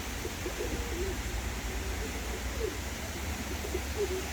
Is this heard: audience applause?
no